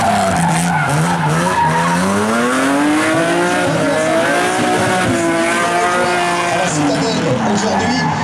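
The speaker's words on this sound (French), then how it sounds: "On fait chauffer les pneus" Rally car drifting at a Wallonia rally drift show, its engine revving with rising and falling pitch sweeps while the tyres squeal continuously, loud and close, with a crowd or commentator heard faintly underneath.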